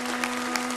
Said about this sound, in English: Yes, a round of applause for sure.